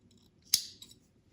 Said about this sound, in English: I'm just gonna cut off your